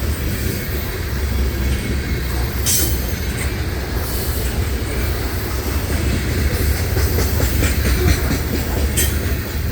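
A freight train with auto rack cars rolls steadily along the rails, a continuous close rumble with wheel clatter and occasional faint squeals, heard alone without voices.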